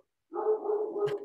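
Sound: dog barking

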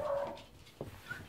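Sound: dog whimpering

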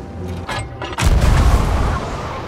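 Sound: ship cannons firing in Sea of Thieves video game

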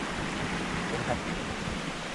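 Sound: small natural waterfall in a mountain stream

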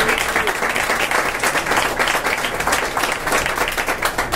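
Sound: applause

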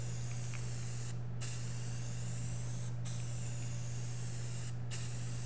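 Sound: spraying Rust-Oleum Ultra Cover primer from a spray can

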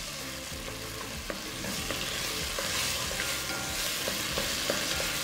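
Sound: salsa sautéing in oil with garlic

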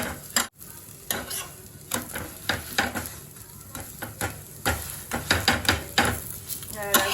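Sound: aloo paratha cooking on a gas stove pan

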